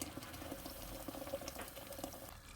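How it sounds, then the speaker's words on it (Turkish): Water boiling in a pot on a home stove, a soft continuous bubbling and rumbling heard fairly close but quiet, with no talk over it. "Bir tencerede su kaynıyor."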